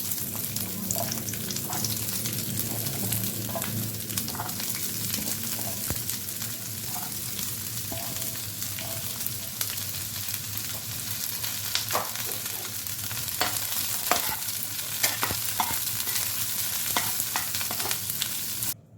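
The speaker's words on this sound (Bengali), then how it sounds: "পেঁয়াজটাও আমি শ্যালো ফ্রাই করে নেব" Onions shallow-frying in oil in a pan, a dense, loud and continuous sizzle with spatters and occasional stirring clinks.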